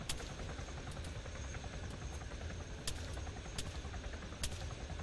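Video game helicopter hovering with a constant whirring rotor drone, loud and close, punctuated by a few sharp cracks like distant gunfire.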